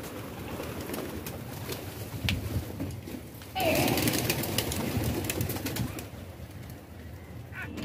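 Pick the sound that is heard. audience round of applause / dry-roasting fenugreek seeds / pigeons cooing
pigeons cooing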